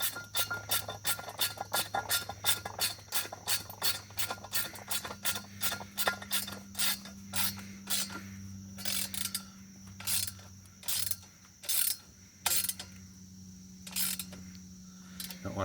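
Metal bolts and nuts being tightened with a ratcheting tool on a 20 ft steel ladder stand, giving a long run of rapid, evenly spaced clicks that later slows into separate bursts, close and moderately loud with a steady low hum underneath.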